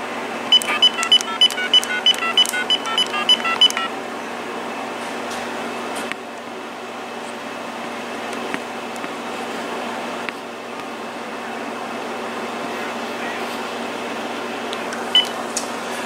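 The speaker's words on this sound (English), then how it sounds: "now let's go ahead and call the time temperature, not time temperature, but Farmer Jones hotline" Uniden EXA915 cordless phone dialing a hotline: a quick run of keypad tones in the first few seconds, then a steady faint line hum with occasional soft clicks and no talking.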